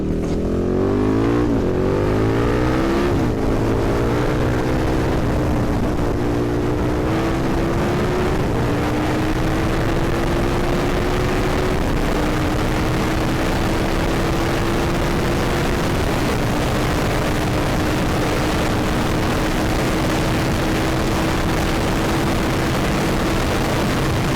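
A KTM 1290 Super Duke R motorcycle accelerates hard through the gears, its rising engine whine climbing through several shifts and settling into a loud, sustained high-speed drone under heavy wind rush.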